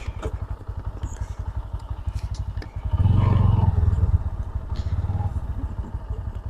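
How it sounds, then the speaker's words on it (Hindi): Motorcycles, a Bajaj Pulsar NS and a Honda Shine, idling at the start line of a drag race: a loud, steady engine chug close by that swells with a brief rev midway, then settles back to idle. "तो यहाँ से हम लोग शुरू करने वाले हैं डेग रेस हमारी।"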